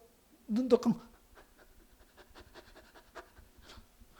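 A voice imitates the eager panting of a hungry newborn baby before nursing, a loud burst of breathy gasps followed by softer rapid panting breaths.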